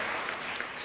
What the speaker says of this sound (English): I'm going to applaud everybody.